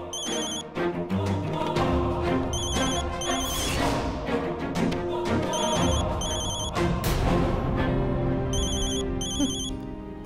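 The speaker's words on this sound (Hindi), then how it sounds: "प्रभु रूम रे फोन रिंग होची" A telephone rings in repeated electronic bursts over steady background music, loud and close, about four ring cycles.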